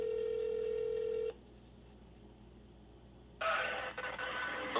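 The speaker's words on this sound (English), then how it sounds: "Where's the phone? I'm about to call them." A telephone is dialed to place a call: a steady dial tone sounds, cuts off, then after a pause a ringing or connecting tone buzzes on, close and clear with no talk.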